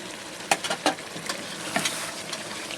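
Cleaned chicken feet sizzle in masala in a pan, a steady frying hiss broken by a few sharp stirring clatters and spatters, with no talk.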